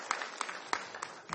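An audience at an education conference applauds steadily to welcome a presenter, a dense wash of clapping with slightly louder claps at a regular beat.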